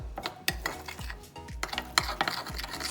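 A spoon presses and scrapes quickly and rhythmically through a melted zupa mixture in a bowl, making close, quiet tapping and squishing strokes with no voices.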